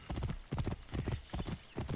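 Horse hooves clip-clop in a video game, a rhythmic trotting pattern of paired hoof strikes repeating about every half second, close and steady with nothing else over it.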